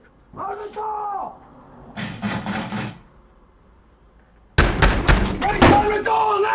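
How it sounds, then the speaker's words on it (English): Fists pound heavily on a door in a tense EastEnders scene, loud rapid clusters of thuds and slams alternating with shouting voices. "How can you have a conversation if you're banging the door down"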